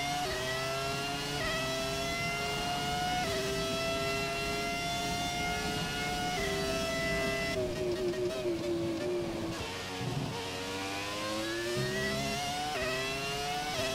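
F1 car engine in the F1 2017 game at the Malaysia circuit on fresh tyres, a loud continuous high-pitched whine rising through the revs with several gear shifts, alone without talk.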